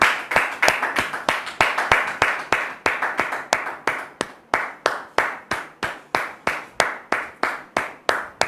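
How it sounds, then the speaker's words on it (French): A church audience welcoming a pastor with rhythmic clapping, sharp, evenly spaced hand claps in a steady beat, loud and close, with a few voices faintly underneath. "le pasteur Élie, sous vos applaudissements"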